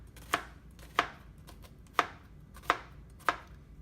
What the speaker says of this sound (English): to cut it into smaller pieces, hold the knife like this